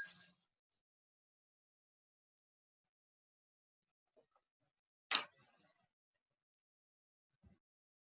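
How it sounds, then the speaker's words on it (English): A bell rung during a worship service, a bright single strike opening the clip, then a second clear ring a few seconds later that fades quickly, with near silence between and a faint knock at the end. "the bell."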